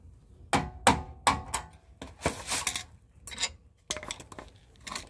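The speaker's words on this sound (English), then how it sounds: "Use a flathead screwdriver and a hammer and just pop it right out." A hammer strikes a flathead screwdriver to pop the brake caliper clip off a BMW 325i front brake, giving a series of sharp metallic taps, close and irregular, some in quick pairs, with scraping in between.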